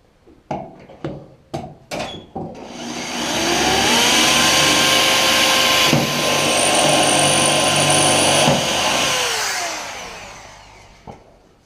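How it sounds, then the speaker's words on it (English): A handful of sharp knocks, then a power drill whirs up and runs steadily for several seconds, drilling through a Humvee top, with a rising pitch shift before spinning down. "I'm gonna drill a hole right here"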